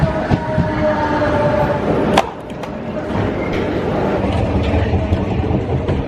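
Riding a Barcelona metro train, a loud continuous rumble and rattle of the carriage on the rails fills the whole span, with clacks and a brief squeal partway through and no talk.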